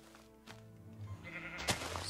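A Minecraft sheep on Xbox 360 gives a short, faint in-game bleat amid soft game ambience.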